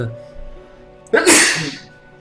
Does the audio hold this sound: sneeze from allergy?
yes